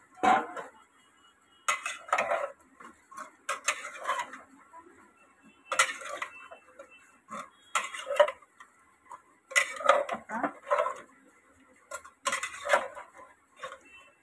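Chicken masala is stirred in a metal pressure cooker pot, with a spoon scraping and clanking against the sides in short repeated bursts separated by brief pauses, close and moderately loud.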